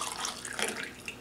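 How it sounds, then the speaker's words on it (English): Hot water poured from a microwave-heated container into a heat-changing world map coffee mug, a steady close splashing stream lasting just over a second with no talk. "So I'm gonna pour it in the day and night mug here."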